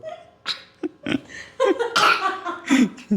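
A few short, sharp bursts like coughs or a sneeze, close by, spread over a few seconds with breathy sounds between them.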